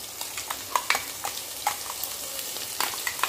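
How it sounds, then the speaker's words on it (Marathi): Ground coconut-and-ginger spice paste frying in oil over a low flame while being stirred, a soft, steady sizzle broken by scattered light crackles and spatula scrapes, close and alone. "वाटण छान भाजून घ्यायचं बरं, कमी गॅसवर"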